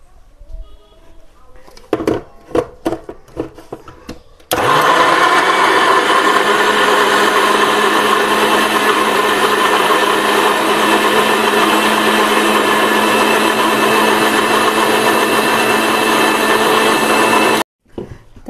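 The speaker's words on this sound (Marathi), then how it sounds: "तर आता हे आपण मिक्सीमधनं काढून घेतोय" A mixer grinder purees ginger, tomatoes and onion into a gravy, running loud and steady for about thirteen seconds after a few clattering knocks, then cutting off abruptly.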